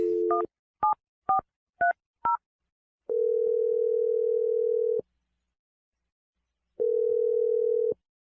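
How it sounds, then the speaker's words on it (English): Telephone keypad tones: five short dialing beeps in quick succession, followed by two long steady ringback tones separated by silence, clear and alone with no talk. "We're going to dial Ryan's phone number and try and get your second date."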